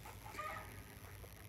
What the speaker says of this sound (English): all the chickens are here